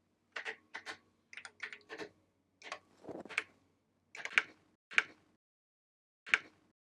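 Someone types on a computer keyboard, tapping out a series of separate clicky keystrokes in small clusters and then single spaced presses, close and clear in an otherwise quiet room.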